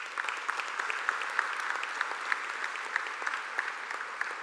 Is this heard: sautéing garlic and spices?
no